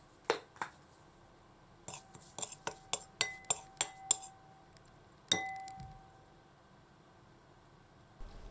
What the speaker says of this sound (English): mix together the ground sesame seed, soy sauce, and sugar in a bowl